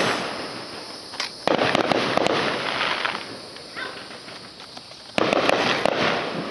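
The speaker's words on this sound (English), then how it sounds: "I hate big fireworks!" Big fireworks burst outdoors in sharp loud bangs followed by long crackling hiss, two heavy volleys separated by a quieter stretch of fizzing.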